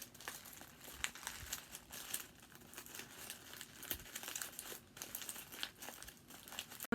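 Sheets of paper are crumpled by hand for a paper wig, with a close, continuous crinkling and crackling that comes in irregular bursts and carries no talk.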